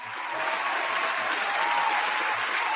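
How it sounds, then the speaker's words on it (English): A steady round of crowd applause, dense and continuous throughout, with a few low thumps beneath the clapping. "Give them a round of applause, Dina."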